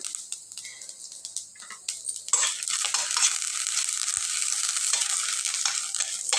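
Curry leaves frying in a hot pan for a Telugu nalleru chutney: a bright, steady sizzle that swells midway, with scraping stir strokes and light utensil clinks, close and without talk.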